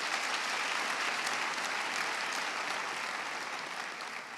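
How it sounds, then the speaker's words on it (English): First-year university students applauding themselves at a welcome ceremony, a broad steady wash of many hands clapping in a large hall, fairly distant and tapering slightly toward the end. "So you deserve to give yourselves a round of applause"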